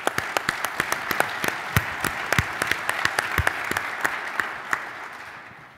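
Audience applause at a presentation event, dense clapping from a crowd held steady for several seconds before tapering off slightly at the end.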